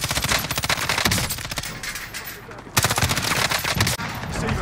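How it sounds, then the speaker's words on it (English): Dense automatic gunfire in the video game Warzone rattles in rapid, loud bursts, pausing briefly midway before another heavy volley resumes. "Receiving hostile fire."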